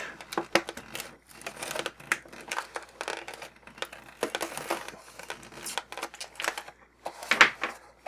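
Plastic and cardboard packaging for a GI Joe Retaliation Cyber Ninja action figure cut open along the bottom, heard as a close, irregular run of crackling snips, crinkles and clicks with no talk.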